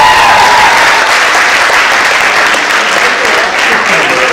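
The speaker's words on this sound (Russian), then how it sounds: "больше, больше аплодисментов" Loud, dense applause from a large audience at a KVN comedy league festival roars continuously, with a brief voice heard faintly at the start.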